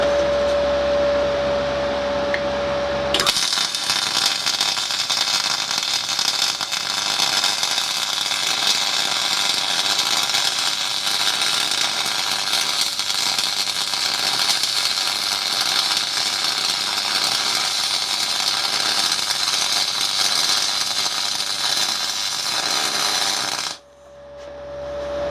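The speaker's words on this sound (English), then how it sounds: "I'll weld the other side, there's some heat in it, and see what sort of difference it makes" Aluminium being MIG welded with an R-Tech MIG 180 spool gun, a loud, steady crackling hiss that starts abruptly and runs unbroken for about twenty seconds before cutting off, with a quiet hum before and after.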